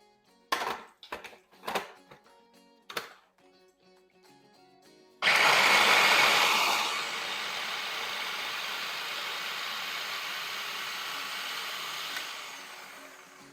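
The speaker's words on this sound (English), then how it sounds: "we are going to blend those up first so that they are good and smooth" First a few knocks and clunks, then a countertop blender roars to life blending chickpeas. Its loud whirring settles after a second into a steadier, slightly quieter grind that runs to the end.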